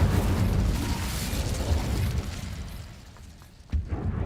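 The Incendio fire spell is cast in Hogwarts Legacy, making a loud, dense roaring whoosh that slowly fades over several seconds, followed by a sharp, punchy burst near the end.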